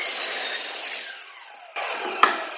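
A saw cuts through a wood board pushed up against a stop block, giving a close, steady rasping cut that fades, then a sharp second burst with a brief knock near the end.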